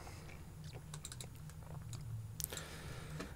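Keys tapped on a computer keyboard while setting up a digital synthesiser patch, a quiet run of close, irregular clicks over a low steady hum with no talking.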